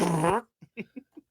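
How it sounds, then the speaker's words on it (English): A short, buzzy fart, loud and close, lasts under half a second and is followed by a few faint, scattered sounds. "I'm pretty sure that was a fart right in the middle."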